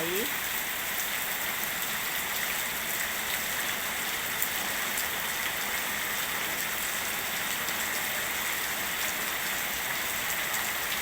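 Rainwater pouring off the eaves during steady rain, a dense continuous hiss of drops and running water throughout.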